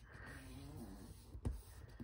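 A pet snores faintly in a quiet room, with a soft rasping breath and one short louder snort midway.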